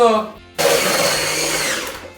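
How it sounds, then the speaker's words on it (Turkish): An electric hand mixer whirs steadily while making a cherry tart in a home kitchen, starting abruptly after a brief spoken phrase and running loud and close until cut off. "Şimdi artık mikseri kapatabiliyorum."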